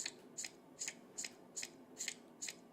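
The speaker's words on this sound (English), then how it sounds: "So we're dealing the cards" Seven evenly spaced crisp snaps in a steady rhythm as cards are dealt in the Blue Canoe Learning card game played against a computer, faint and close with no voices.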